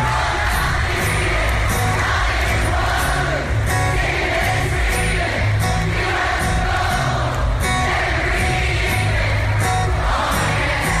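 A packed crowd at a Picture This gig roars continuously, loud and close, with yells, whoops and chanting voices layered into a dense wall of noise.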